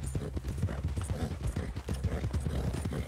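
Rapid rhythmic hoofbeats of a horse galloping through woods in Red Dead Redemption 2, steady and fairly close, running continuously under a faint background.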